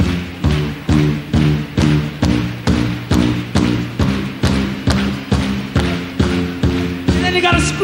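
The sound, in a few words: concert audience stamping their feet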